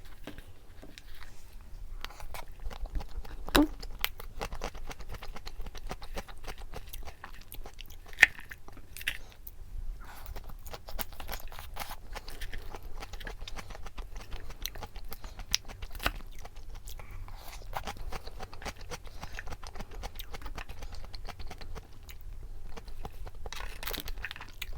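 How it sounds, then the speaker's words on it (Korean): Close-up eating of a salad and a Hong Ruizhen egg tuna mayo sandwich, steady crunchy bites and chewing with occasional wrapper crinkles, quiet and continuous over a long stretch without talk. "샐러드랑 홍루이젠 에그참치마요 샌드위치 이렇게 먹을 거예요"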